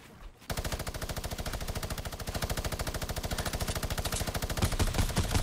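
Rapid, evenly spaced automatic gunfire in a video game, a long unbroken stream of loud shots that begins abruptly after a brief quiet moment and keeps pounding steadily.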